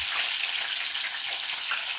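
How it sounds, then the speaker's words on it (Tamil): Chopped green chillies hit hot oil in a pan while sura puttu is being cooked, giving a steady, bright sizzle and crackle that stays even throughout with no talking. "ஃபஸ்ட்டு வந்து நம்ம கட் பண்ணி வச்சுருக்க பச்சை மிளகாவை போட்டுக்கலாம்."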